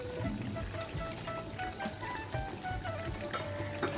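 Fried cauliflower and potato pieces go into a simmering Bengali fish curry, bringing a soft steady sizzle and bubbling with faint stirring, quiet and close.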